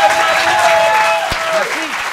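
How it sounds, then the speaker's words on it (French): Steady, loud audience applause fills the whole stretch, with a voice speaking over the clapping. "J'aimerais qu'on applaudisse mon ami Tex, s'il vous plaît."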